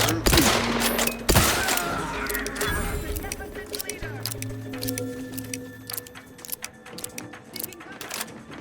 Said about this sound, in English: Using my firearm.